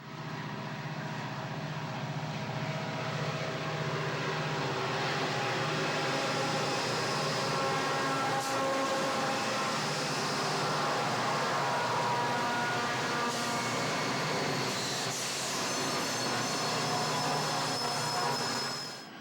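A Southern Pacific SD40 diesel locomotive approaches Highland at the summit of Cajon Pass, its engine drone and rolling rail noise sustained and fairly distant, with faint wheel squeal throughout.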